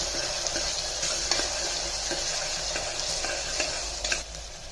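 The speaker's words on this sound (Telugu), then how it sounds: "టమాటాలు వేస్తున్నా టమాటాలు కలుపుకోవాలి ఇవి దూరగా వేయించుకోవాలి" Tomatoes stirred and frying in a pan for a Telangana-style mutton curry, a soft steady sizzle broken by regular scraping strokes of a spoon, fairly quiet and close.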